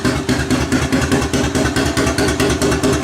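A four-wheeler ATV engine running cold on its first start, close and loud with a steady rhythmic chugging idle and mechanical clatter, no voices.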